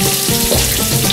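Frozen vegetables steam and sizzle in a wok for a chicken and steak stir-fry, giving a steady, close frying hiss with no talk.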